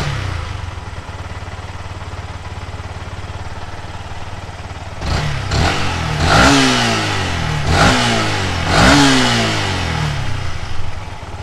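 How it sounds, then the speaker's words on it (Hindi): Yamaha R15 V2 motorcycle engine, under restoration with throttle body and fuel pump work, idling loud and close, then rising into three quick throttle revs that each fall back to idle. "अभी आरपीएम देखो बिल्कुल स्टेबल है, 2000 आरपीएम पे है"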